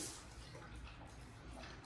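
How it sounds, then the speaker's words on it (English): Tap water runs steadily as a hand is rinsed under it at a cooking prep spot before applying pecan rub to beef ribs, a soft continuous splashing hiss without talk. "I'm gonna wash my hand off"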